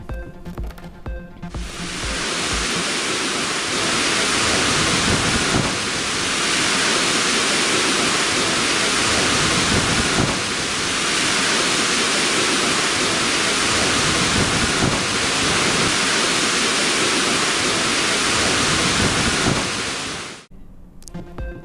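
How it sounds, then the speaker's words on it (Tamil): Water roars down the Agaya Gangai waterfall in the Kolli Hills after heavy rain, a loud, steady, dense rushing wash that fills the whole stretch and then cuts off near the end. "நாமக்கல் மாவட்டம் கொல்லிமலையில் பெய்த மழையால் ஆகாய கங்கை நீர்வீழ்ச்சியில் ஆர்ப்பரித்து கொட்டும் தண்ணீர்."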